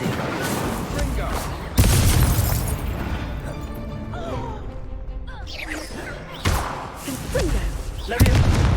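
A fire spell cast in Hogwarts Legacy, heard as several loud booming bursts with crackling tails, spaced a few seconds apart over a busy game soundscape, with a voice speaking in between.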